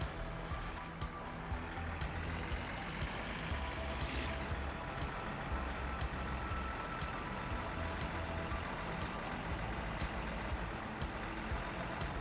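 A vehicle engine runs in the video game My Summer Car, a steady rumbling drone under faint ticking and a brief swell partway through, heard without speech.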